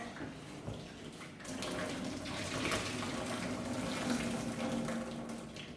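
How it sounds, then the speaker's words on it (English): Steady rush of boiling water pouring into a sink, continuous and fairly close, building slightly after the first second and holding to the end. "So I'm just going to add some boiling water."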